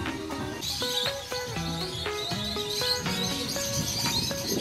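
Birds chirp continuously at a bird sanctuary in the Dominican Republic, with overlapping calls and tones against a busy background.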